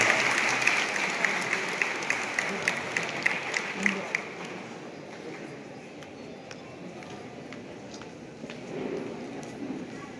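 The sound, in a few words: audience applauding loudly at a workers' gathering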